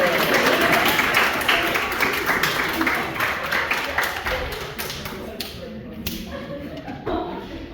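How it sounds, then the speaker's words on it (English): Applause from a theater audience after a comedic scene in a math-inspired stage monologue, dense clapping filling the room at first, then thinning and fading toward the end with a few scattered claps and some voices. "One more round of applause for Mr."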